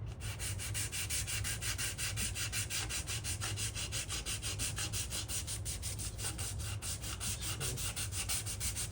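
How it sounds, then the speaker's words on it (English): Sandpaper, 180 and 600 grit, rubs rapidly back and forth over corroded aluminum forks in quick, even strokes, a close, steady scratchy rasp with no talk. "Sand all this off."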